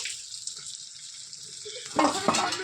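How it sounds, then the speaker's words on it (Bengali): Chicken and new potatoes sauté in a pan for a village-style curry, with a steady close hiss of frying oil that turns into louder stirring, scraping and sizzling bursts near the end. "ভালো করে কষে নেবো দশ থেকে পনেরো মিনিট"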